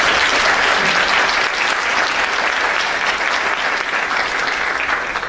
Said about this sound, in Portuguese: Gostaria até de pedir uma salva de palmas aí para todos eles.